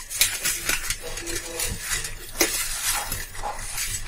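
Salted bitter gourd pieces tossed and mixed in a bowl: continuous wet clinking, scraping and rustling with occasional sharper knocks against the bowl, close and moderately loud, with no voice over it.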